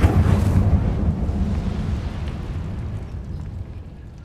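A burst of fire erupts from an Incendio spell cast in Hogwarts Legacy, a loud whooshing blast at the start that fades into a low, sustained roar.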